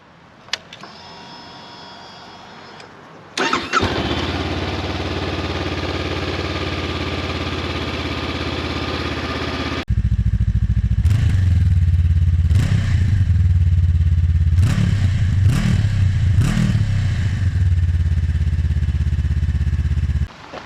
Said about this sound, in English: let's get the bike started.